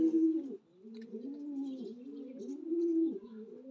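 Racing pigeons coo steadily on arrival at the loft after a national marathon race, low rolling calls repeating close by with no voices.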